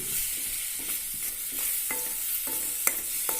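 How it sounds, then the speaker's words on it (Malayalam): A spoon stirs mango curry in a pan, scraping and tapping in a steady repeating rhythm over a soft continuous sizzle, with a few sharper clinks against the metal. "ഇളക്കി യോജിപ്പിക്കുക"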